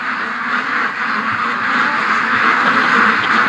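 A flock of ducks quacks continuously and excitedly near their pen on a farm where they are raised, a dense, steady chorus of overlapping calls that stays loud throughout.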